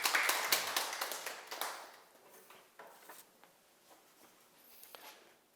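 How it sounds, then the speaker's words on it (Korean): Audience clapping during a Korean self-study lecture starts as a brisk burst of claps, then thins out into scattered, fading taps and a few isolated claps in a quiet room. "너무나 잘하고 계신데 큰 박수 부탁드립니다"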